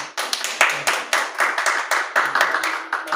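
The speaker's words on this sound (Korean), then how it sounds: "박수 한번." A small church congregation claps in a short round of distinct, sharp handclaps that come in quick, slightly uneven bursts over about three seconds, close and without talk.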